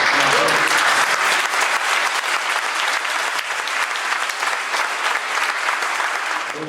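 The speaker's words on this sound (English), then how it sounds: "We can applaud for that." A large audience claps steadily and loudly for a 30-year member of Laborers Union Local 271 at an MLK Hall of Fame award ceremony, with dense applause sustained throughout and no speech over it.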